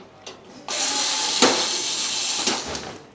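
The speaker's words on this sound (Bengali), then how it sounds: "কোনো স্ক্রু বা কর্ডলেস ডিলের মাধ্যমে আমরা এটাকে লুজ করে নেব" A cordless drill whirs steadily for about two and a half seconds, loosening the screws on a ceiling fan's hanging stand during a bladeless ceiling fan installation, close and fairly loud with a brief surge midway and no talk.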